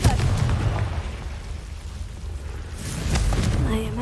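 The Confringo blasting spell in Hogwarts Legacy goes off as a heavy explosive boom with rumbling blasts, a second burst hitting near the end, and some speech mixed in.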